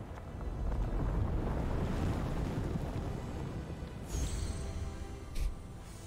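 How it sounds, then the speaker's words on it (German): Cold mountain wind in the video game Immortals Fenyx Rising rushes in a steady, loud, broad roar that eases slightly, with a faint high whistle near the end. "Als der kalte Wind in Phoenix Ohren pfiff, musterte sie den riesigen Berg"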